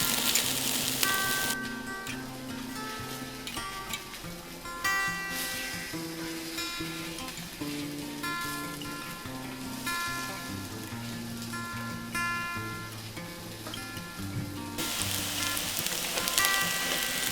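Okazuya-style corned beef hash patties fry in oil in a pan, a steady hissing sizzle that stands out at the start and end and continues softly beneath melodic background music.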